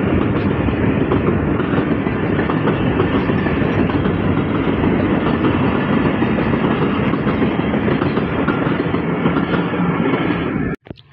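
A train passes close by on a hot day, filmed from the village side of the line, a loud steady rumble with wheel clatter that runs unbroken for about ten seconds and then cuts off abruptly.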